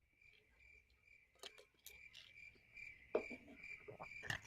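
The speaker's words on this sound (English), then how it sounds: "Oh, that's crickets chirping." Crickets chirping as a sound effect, a steady high trill running throughout, quiet and close, with scattered clicks and soft rustles mixed in.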